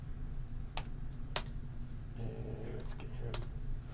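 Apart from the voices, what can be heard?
typing on a computer keyboard into in-game chat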